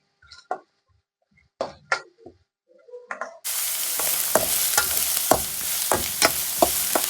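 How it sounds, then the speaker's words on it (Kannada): Sliced onions frying in oil in a pan for chicken tikka masala: a few scattered kitchen clicks and rustles, then a loud, steady close sizzle that runs to the end, broken by rhythmic spatula strokes. "ಇದು ಈರುಳ್ಳಿ ಚೆನ್ನಾಗಿ ಫ್ರೈ ಆಗಲಿ"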